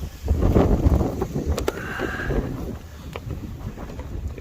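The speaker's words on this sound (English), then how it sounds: "It's still windier than heck" Strong outdoor wind buffets the microphone in loud, low rumbling gusts, strongest early on and easing slightly toward the end.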